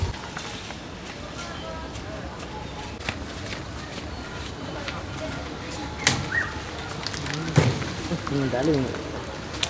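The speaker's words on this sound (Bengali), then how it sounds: "টিনের চালে বৃষ্টি পড়তেছে" Rain drums steadily on a tin roof in a village, a dense, even patter that fills the whole stretch, with a few sharper knocks and faint bird calls near the end.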